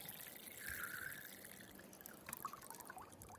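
Water poured into a bowl to pre-soak green bean seeds: a faint, soft trickling splash lasting a few seconds, with no talk.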